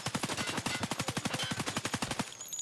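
Rapid bursts of automatic gunfire in the video game Escape From Tarkov rattle in a fast, even rhythm for a couple of seconds, then stop abruptly.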